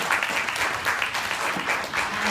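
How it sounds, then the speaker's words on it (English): Steady, dense applause from an audience of daughters in a school auditorium honouring their fathers at a Lauralton Hall father-daughter brunch, filling the whole short stretch at an even level. "I think we should all give our dads a big round of applause right now"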